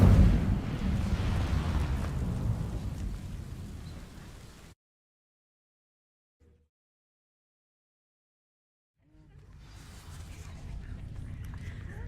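Hogwarts Legacy Incendio fire spell bursts into a loud roaring whoosh of flame that fades over several seconds, then cuts to near silence before another rushing fiery surge builds up at the end.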